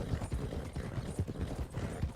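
Hooves of an Appaloosa horse clip-clop in a steady, even rhythm in the Red Dead video game, close and continuous against a dense low background.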